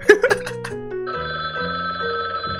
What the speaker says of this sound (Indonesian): Yo, telepon sudah berbunyi.